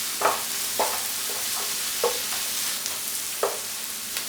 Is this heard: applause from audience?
no